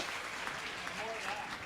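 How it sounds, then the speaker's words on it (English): A variety show crowd in Anderson Valley gives a round of applause, soft, continuous clapping heard from a distance, with faint tonal sounds and indistinct voices mixed in underneath. "I think we should all just give a round of applause right now for that"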